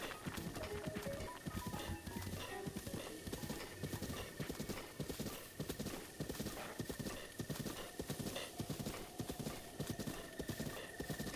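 Horse hooves clip-clop in a steady, rapid galloping rhythm across open ground in Breath of the Wild, with an occasional whinny, over a constant game ambience at moderate, close-up loudness.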